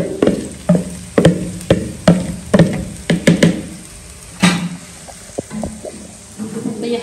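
Pepper and onion tipped into hot oil over charcoal, crackling and sizzling loudly up close, with a run of sharp stirring knocks and scrapes against the pot and the frying settling into a steady hiss.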